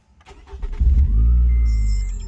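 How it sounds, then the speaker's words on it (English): A car engine starting after an ECU reflash tune: a few sharp cranking clicks, then the engine catches and settles into a loud, steady low idle close by. "Now to turn the engine off, and start her back up again,"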